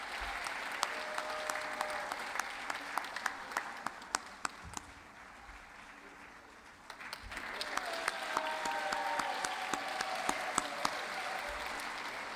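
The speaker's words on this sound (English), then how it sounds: "Please give a round of applause to Joanne and a well-served Community Service Award." Audience applause at a civic awards ceremony for a community service award recipient: sustained, fairly distant clapping from a seated crowd, dipping briefly midway and then swelling again, with scattered sharper individual claps.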